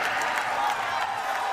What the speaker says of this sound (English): The crowd exploded in a fit of cheering.